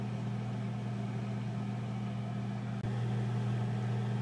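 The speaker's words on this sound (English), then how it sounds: "Now this microwave has been going on for about 5 to 10 minutes now." A microwave oven left running for several minutes gives off a steady, low electrical hum with a constant drone, briefly interrupted by a tiny click partway through, with no other sounds.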